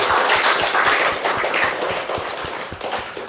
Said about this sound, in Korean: 크게 격려의 박수 한번 부탁드리겠습니다